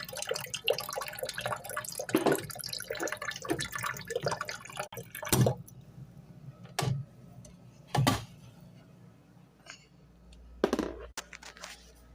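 Water trickles and drips slowly into a thermos from a tap or dispenser, with soft splashes and several sharper drip-like knocks scattered through a quiet indoor background.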